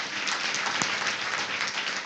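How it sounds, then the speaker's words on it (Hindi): A church congregation claps together in a dense, continuous burst of applause, with loud, steady crackling hands filling the room. "अरे प्रभु के लिए तालियां नहीं बजाओगे?"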